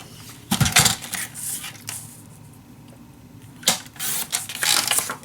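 Paper being cut for an Alice in Wonderland mini album, with a few crisp scissor snips in short bursts, a quieter pause between them, then more snipping close by.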